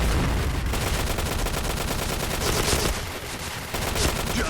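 Rapid gunfire in the video game Point Blank, dense bursts of automatic shots rattling loud and close nearly without pause, with a brief drop in intensity near the end.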